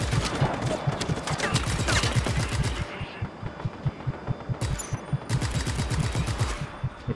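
Heavy big-gun fire in the Just Cause video game, rapid bursts of loud booming shots in a steady rhythm, breaking off briefly midway before another sustained volley resumes.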